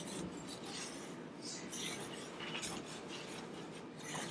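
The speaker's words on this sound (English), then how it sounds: "So I'm stirring it quite a bit, and I'm waiting to see it change color" Sugar for caramel is stirred in a pan, making a steady, soft scraping and rubbing that runs continuously and fairly quietly throughout, with no talking.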